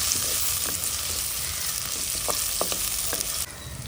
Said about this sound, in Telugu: కశ్మీరీ మిరపకాయలు ఇది కూడా ఇందులో వేసుకోవాలి ఇవన్నిటిని బాగా వేయించుకోవాలి